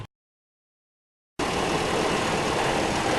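After a brief silence, a car engine runs at a steady idle during an oil change, a continuous even rumble with no talk.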